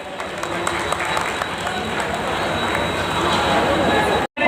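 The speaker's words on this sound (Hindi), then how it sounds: "उनका जोरदार तालियों से स्वागत किया जाए" A crowd applauds to welcome former mayor Avtar Singh at a Delhi division celebration of Babasaheb Ambedkar's 132nd birth anniversary. The dense clapping is sustained and steady, with a voice carrying over it.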